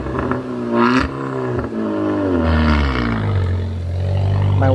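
A hybrid car being driven, its engine revving loudly and close with a steady drone whose pitch rises and falls over several seconds, no voices.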